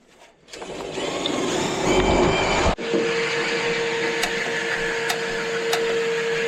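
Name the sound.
vacuum cleaner running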